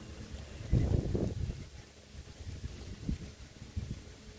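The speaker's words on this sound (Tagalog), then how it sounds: "Bumalik na naman tong hangin." Gusty wind buffets the microphone in low rumbling bursts outdoors while planting lettuce, strongest early and then returning in shorter gusts.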